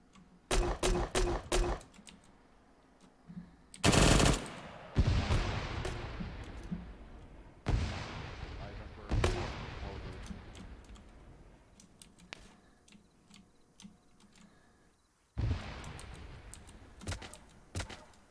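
Sharp gunshots in the military shooter Arma 3, a quick string of cracks followed by several louder single shots with echoing tails spaced several seconds apart, near and loud against a quiet background.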